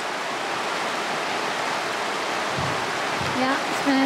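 A mountain creek in the Smoky Mountains flows steadily, a close, constant rushing of water. A faint voice comes in near the end.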